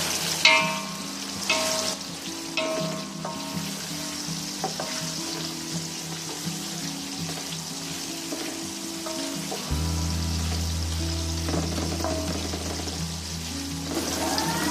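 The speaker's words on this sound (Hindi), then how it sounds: "ये देखिए हमारा प्याज हल्का हल्का ब्राउन होना शुरू हो गया है" Onions cut medium-fine fry and brown in a pan for haleem, a continuous sizzle with scattered crackles and occasional stirring clatter, under a low steady hum that grows louder partway through, with no talk.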